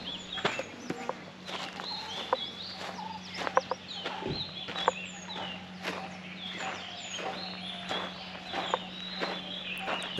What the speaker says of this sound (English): on the surroundings you can hear all the bird calls